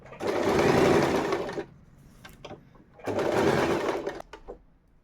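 Usha electric sewing machine stitching a saree fall, with two loud close runs of rapid whirring stitches separated by a short pause filled with light clicks and handling noise.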